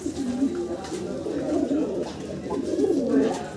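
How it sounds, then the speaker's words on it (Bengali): A pair of Kagji pigeons coo softly and repeatedly up close, the female nearly ready to lay eggs. Low, rolling coos continue throughout with a faint hum behind. "খুব চমৎকার এক জোড়া কাগজি কবুতর"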